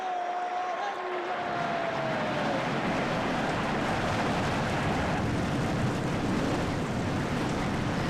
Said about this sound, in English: And the 42 cars come to life.